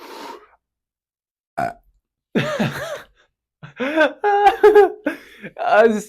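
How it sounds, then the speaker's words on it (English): A short burp sounds early, then a few quiet voiced noises and gasps follow in bursts, close to the mic. "I'm going to burp really quick"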